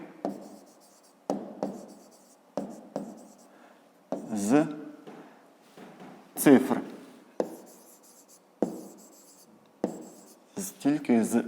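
A pen writes digits on paper in short scratchy bursts, separated by pauses, close to the microphone, while a voice speaks in Ukrainian at intervals over the strokes.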